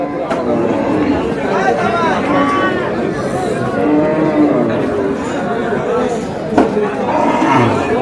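Cattle lowing at a busy village livestock market in Aftabganj, several moos rising over a constant babble of bargaining voices and crowd chatter close by.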